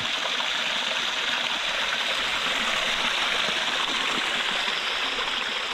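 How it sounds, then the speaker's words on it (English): A creek at Ferne Clyffe State Park flows with a steady, close rushing and trickling of water that holds an even level throughout, with no voices. "Checking out this beautiful creek."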